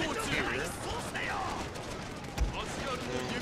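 Dense musket volleys crackle through a siege battle in the Shogun 2 video game, a busy continuous wash of gunfire with one sharper burst midway, heard under a speaking voice.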